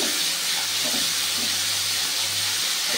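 Spice paste for soyabean do pyaza sizzles and hisses steadily in a pan after a splash of water, a dense continuous frying noise with no talk.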